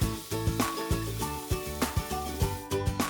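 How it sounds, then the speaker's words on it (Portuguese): Bacon frying in a preheated pan, a soft continuous sizzle broken by repeated scraping or stirring strokes in a steady rhythm, close and fairly quiet. "Então a gente vai fritar o bacon."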